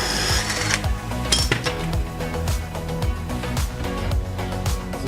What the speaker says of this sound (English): so I'm going to use this crescent wrench here.